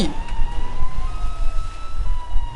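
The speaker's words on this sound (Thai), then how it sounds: "เฮ้ยรถตำรวจด้วย" A police car siren in GTA V, the zombie mod, wails in a steady tone over loud engine and road rumble from the game, close and continuous with no talk.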